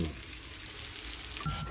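Onion frying together with meat in a pan for stir-fried lagman, a steady close sizzle running throughout, with a brief louder crackle near the end and no talking.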